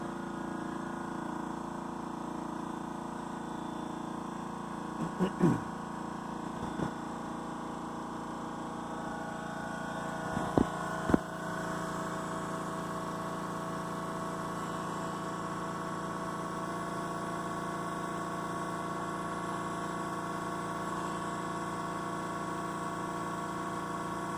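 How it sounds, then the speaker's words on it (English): An air compressor in a waste vegetable oil fuel system hums steadily and evenly throughout, with a few brief mechanical clicks and knocks near the middle. "There's the air compressor."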